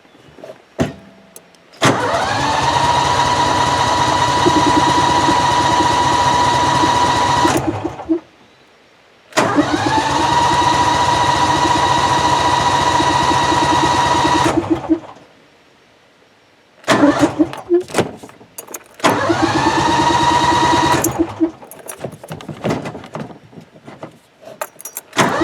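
A Briggs & Stratton engine on a John Deere riding mower is cranked repeatedly by its starter in three long, loud bursts separated by brief pauses, with clicks and rattles between attempts.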